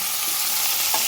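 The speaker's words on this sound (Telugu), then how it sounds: "ఈ వంకాయ ముక్కల్ని మెల్లిగా వేయాలి. మసాలా కలిపి" Eggplant pieces fry with masala in a pan, giving a loud, continuous hissing sizzle and a brief scrape of stirring near the end.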